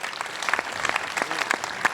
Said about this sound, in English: Everybody, round of applause for Marcus Notaro.